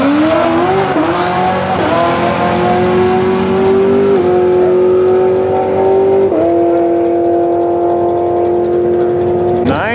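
A Corvette makes a quarter-mile drag racing pass at night, its engine holding a loud sustained roar that climbs in pitch, then drops back at each upshift, several times over ten seconds, with no talk over it.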